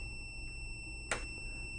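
A Yamaha R7 fitted with a GYTR quickshifter gives a single short, sharp electronic beep as the switch triggers, set against a steady background hum and tone.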